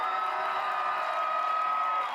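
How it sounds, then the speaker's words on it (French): Audience at a live event cheering and whooping in a sustained, dense roar for a performer, steady and loud throughout with no individual claps standing out. "Applaudissez très fort Nepsuro."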